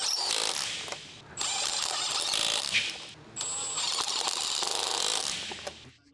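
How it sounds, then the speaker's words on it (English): Electric impact wrench with a 19mm long socket snugging rear lug nuts on a 2011 Mazda 3, giving several loud, close, buzzing hammering bursts of a second or two each, separated by brief pauses. "Using the 19mm long socket with the electric impact wrench, snug the rear lug nuts."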